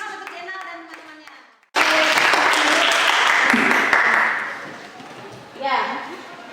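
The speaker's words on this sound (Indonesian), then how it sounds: "kasih tepuk tangan untuk Jenal dan teman-temannya." Students in a junior high school classroom burst into loud, sustained applause right after a brief stretch of a teacher's talk, the clapping holding steady for several seconds before fading, with a short swell near the end.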